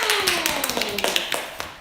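Children in a classroom award ceremony clapping in a quick scattered patter of light hand claps, with a sliding tone and faint voices underneath.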